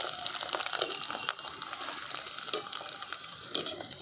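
Semolina and potato kurkure snacks frying in hot oil give a steady, loud, close bubbling hiss with scattered crackles throughout, and no voices.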